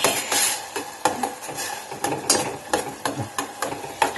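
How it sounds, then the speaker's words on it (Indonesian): Sauce being stirred in a pan while cooking Moroccan potato cookies: a spoon scrapes and clinks against the metal in an uneven rhythm, close and fairly loud, with a faint sizzle underneath. "Kita aduk rata."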